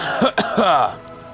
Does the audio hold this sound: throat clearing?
yes